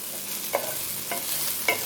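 Tomatoes softening in a pan for a paneer biryani masala give a steady, close sizzle, broken by three spaced spatula scrapes against the pan.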